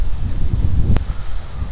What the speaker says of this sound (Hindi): आज हवा बहुत भयंकर चल रही है, बहुत खतरनाक हवा चल रही है, एकदम ठंडी ठंडी हवा